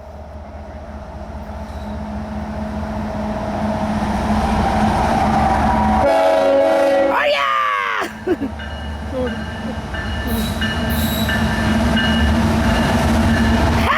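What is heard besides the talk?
loaded coal freight train passing with horn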